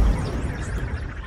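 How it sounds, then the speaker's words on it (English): A rumbling, noisy impact texture with a deep thud at the start and a sustained crackling wash, moderately loud and alone. "sci-fi impact"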